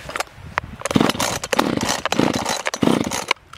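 A chainsaw, not yet warmed up and run on choke, sputters through a starting attempt, with rough bursts of engine noise and clatter rising and dropping repeatedly at close range.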